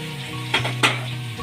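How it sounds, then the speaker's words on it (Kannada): Veg fried rice sizzles in a hot pan as soy sauce is added, with two brief bursts of hissing over a steady low frying sound and no voices. "ಈಗ ಸೋಯಾ ಸಾಸ್ ಹಾಕೋತಾ ಇದ್ದೀನಿ."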